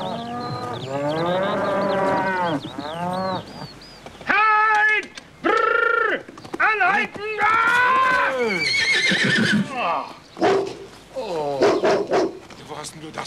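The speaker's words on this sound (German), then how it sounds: "Das ist doch unser Pferd." A horse whinnies and neighs in several long, wavering calls close by, interrupted by shouting voices.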